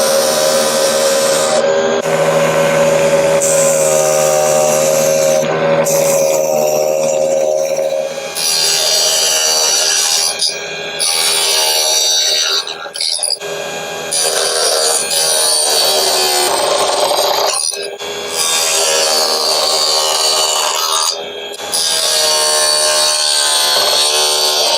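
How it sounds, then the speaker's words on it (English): A tiny table saw power tool used for sanding gives a steady, loud motor whine with a buzzing tone that shifts and dips at intervals as the workpiece is pressed and lifted, with no talking. "let's do a little bit of sanding, see how that works"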